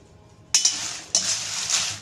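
Red chilies land in hot oil in an aluminium pan over a slow flame, two sharp bursts of sizzle followed by a steady, bright crackle with light scraping of a utensil against the pan.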